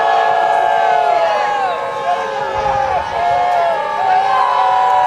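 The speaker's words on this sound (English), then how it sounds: "This crowd's loving that, huh?" A football crowd at a high school game between Sabino and Coolidge cheers loudly and continuously, a broad sustained roar with wavering tones that swells and dips over several seconds.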